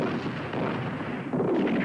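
In a WW2 film battle scene at El Alamein, a tank gun fires amid a dense, rumbling wall of booming gunfire and blasts that stays loud and continuous throughout.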